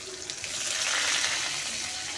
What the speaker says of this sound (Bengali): চলো এটা ভেজে নিই